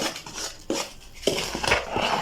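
Dry bread dough ingredients with a teaspoon of salt being stirred together in a bowl, giving a run of close, light scraping and clinking strokes of a utensil against the bowl, with no voices.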